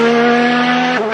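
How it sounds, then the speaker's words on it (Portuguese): Modern Formula 1 car with its wastegate open, a loud, steady, strongly tonal whine holding one pitch before a brief drop near the end, close and alone. "Esse barulho é o wastegate abrindo."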